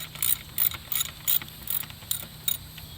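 Ratchet wrench snugging valve cover bolts on a 2008-2012 Nissan Rogue engine, heard as repeated short bursts of pawl clicking in an irregular rhythm, close and moderately loud over a low hum.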